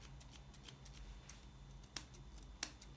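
Scissors snip steadily through a Havanese dog's hair during grooming, a quick run of faint, crisp clicks with a couple of sharper cuts near the end, close and quiet with no talk.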